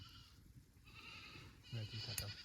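Several goats bleat at a farm at night, low repeated calls near the end over a steady hiss of background ambience, with a faint brief bleat earlier.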